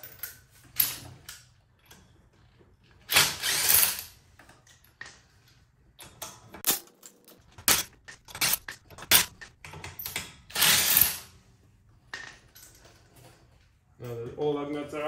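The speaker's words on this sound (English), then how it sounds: "And now we can remove the remaining lug nuts." A ratchet wrench works loose the lug nuts on a car wheel during a tire rotation in a garage, giving sharp, separate bursts of clicking and rattling between quiet pauses, close and fairly loud.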